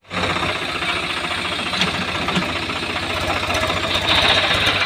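A tractor engine running in a village field, loud and close, with a steady low rhythmic chug that holds throughout without a break.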